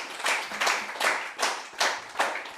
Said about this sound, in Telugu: ఒకసారి క్లాప్స్ కొట్టండి మేడంకి.